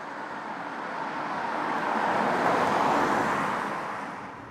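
A 2022 Opel Grandland facelift with a 1.2-litre three-cylinder petrol engine drives on a motorway, a steady broad rush of engine and road noise that swells as it accelerates, with no talking.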